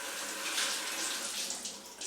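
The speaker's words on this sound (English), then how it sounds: "I'm gonna put water on the onion," Tap water runs onto an onion at a kitchen sink, a soft, steady splashing hiss that stays faint and continuous.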